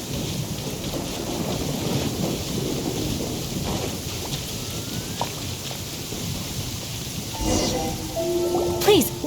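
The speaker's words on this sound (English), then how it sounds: "Many people will dread the sound of thunder." Thunder and rain in Genshin Impact: a deep rumbling roll over steady rainfall, with a sharp crack near the end and faint game sounds layered on top.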